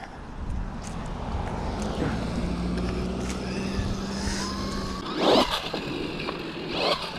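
A DeeRc 1217 RC car whines past at speed, its small electric motor buzzing with a rising pitch before a brief scraping burst as it tears across the ground, moderately near.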